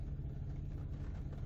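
A 2005 Toyota 4Runner with about 152,000 miles runs while driving, a faint, steady low engine rumble from inside the cabin.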